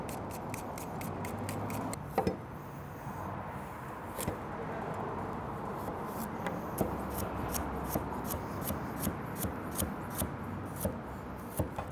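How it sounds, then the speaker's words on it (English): A knife dicing carrots on a cutting board, giving a steady series of soft, sharp chops repeating at an even pace, fairly faint under room noise, with no voices. "So we'll just let those soak for a little bit while we dice up some carrots."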